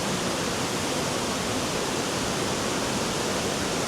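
Waterfall at Malham Cove, a dense, steady, close rushing roar that stays even throughout with no breaks.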